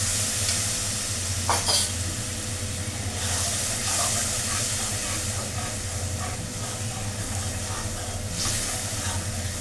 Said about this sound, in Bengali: মরিচ গুঁড়ো 1 চামচ, হলুদ হাফ চামচ পরিমাণ। নারকেলের দুধ দিয়ে আর একটু কষিয়ে নেব।